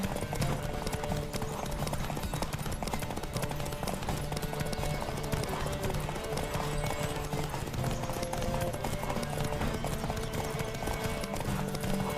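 Hooves pound steadily in a fast gallop during a horse race in The Witcher 3: Wild Hunt, loud and continuous over a low sustained musical drone, with a faint voice briefly present.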